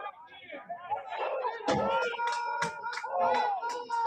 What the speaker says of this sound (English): cheering for a stop here.